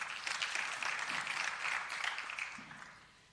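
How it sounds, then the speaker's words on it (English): An audience claps steadily throughout, a dense patter of applause at moderate distance that fades slightly toward the end. "A round of applause, please."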